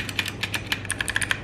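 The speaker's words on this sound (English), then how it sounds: "I brought my beautiful keyboard to work today. Let's see how long my colleagues can tahan this sound." Rapid, crisp clicking of a mechanical keyboard with blue switches, typed at work in an office, each keystroke sharp and close in a quick, uneven stream with no talking.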